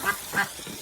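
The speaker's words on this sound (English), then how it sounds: "Happy ducks, let's get this waterer." Two loud, close duck quacks, one near the start and a second a moment later, with no talk over them.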